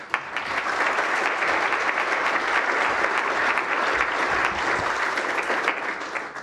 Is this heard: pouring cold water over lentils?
no